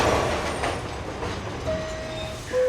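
A subway train rolls past steadily with a broad rumbling roar, joined near the end by faint squealing wheel tones.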